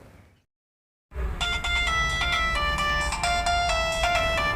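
An electronic ringtone melody starts after a brief silence and plays on steadily, loud and close, with repeating chiming notes.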